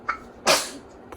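One sharp, close sneeze bursts out mid-clip, preceded by a brief sharp inhale and followed by quiet room tone.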